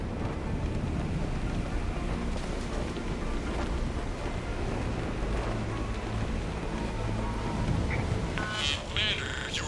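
A steady wash of heavy rain and deep rumbling thunder fills a stormy Mass Effect 3 scene, with a brief electronic burst near the end.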